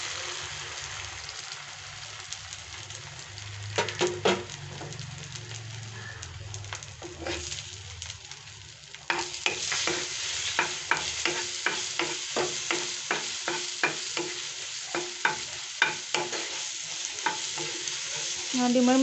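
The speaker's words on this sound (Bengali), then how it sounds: "এখন আমি ডিমটা ফ্রাই করে নেব।" An egg fries in hot oil in a wok with a continuous sizzle, then a run of sharp, rapid spatula scrapes and taps grows busier in the second half, close and fairly loud, no speech.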